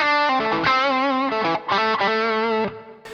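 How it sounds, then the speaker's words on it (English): An electric guitar plays a sustained, harmonically rich phrase through a Tube Screamer overdrive pedal, with a clean guitar tone blended underneath; several notes and chord changes ring loud and close, alone, then cut off near the end. "And that's the sound of the Tube Screamer."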